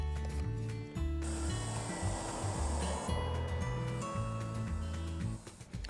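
Water pours steadily into a plastic bottle already holding foamy detergent solution while homemade soap-water spray for garden pests is mixed, a close, continuous gurgling splash with a few brief breaks.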